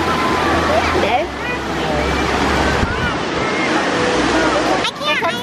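Waves washing onto a sandy beach, a continuous surging rush with heavy wind buffeting the microphone and voices talking and exclaiming over it.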